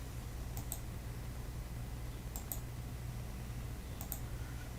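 Faint computer mouse clicks sound in three quick double-click pairs, spaced evenly apart over a low background hum.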